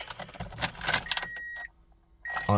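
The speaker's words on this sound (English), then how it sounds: "This is me trying to turn it on and it won't start, pretty much" Car engine turned over with the key but not catching, a short grinding crank and jangling keys followed by a quiet pause and a sharp burst at the end.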